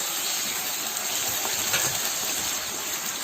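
Boneless chicken, about 750 grams, sizzling with onions in a hot pan, a steady close hiss of frying that holds evenly throughout with no talking.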